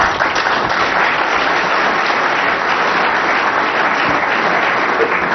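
Sustained applause from a snooker World Championship final crowd, a dense, even roar of clapping filling the whole stretch at steady loudness with no voices over it.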